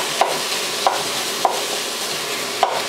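Pork steak for a pastor pork bowl cooks in a pan with a soft continuous sizzle, broken by four sharp clacks of a utensil striking the pan at irregular intervals.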